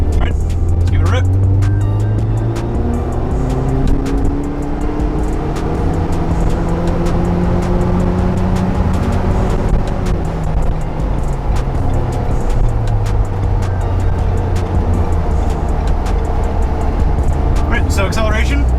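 A Ford Bronco with an XForce valved exhaust, valve open, accelerates from inside the cabin, a steady rising engine drone with gear changes under a continuous road rumble, heard without talking.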